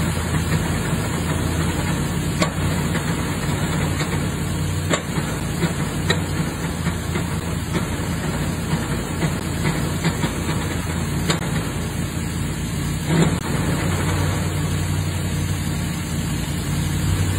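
A Triumph Stag V8 car engine runs steadily with a rough, repetitive knocking through it, loud and continuous with occasional sharper clacks.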